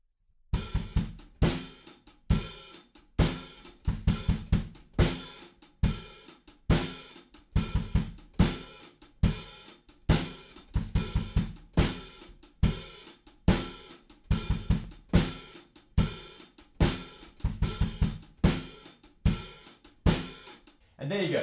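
A drum kit plays a groove at a slow practice tempo: steady, evenly spaced hits with punchy low kicks and crisp cymbal wash repeating in a tight loop, loud and close, with no voices.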